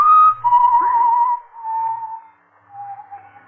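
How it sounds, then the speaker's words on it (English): Someone whistles a slow, wavering tune alone in a tense suspense radio drama, a single clear melodic line rising and falling over a few seconds, moderately close with a faint low hum beneath and no talk. "It's someone whistling"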